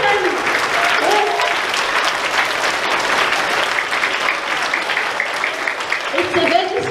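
An audience breaks into steady, sustained applause at a convent's fiftieth-jubilee gathering, many hands clapping in a dense patter, with a voice speaking briefly at the start and again near the end.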